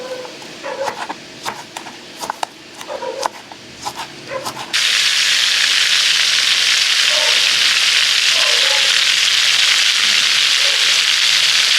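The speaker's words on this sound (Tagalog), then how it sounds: "Lulutuin na po ang ating ginisang giniling na may kasamang Baguio beans." Minced pork and Baguio beans sautéing in a pan, a steady loud sizzle and hiss that starts abruptly partway through and continues unbroken to the end, with a few faint clinks before it begins.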